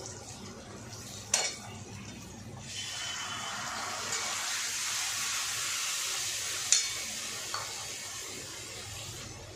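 Fried onions sizzling in a pan as spices go in, a steady soft hiss with a few sharp clinks of a utensil against the pan, close, no talk.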